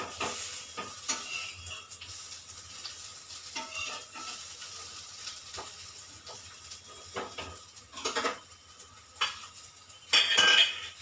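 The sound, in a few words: raw banana fries sizzling and being stirred in pan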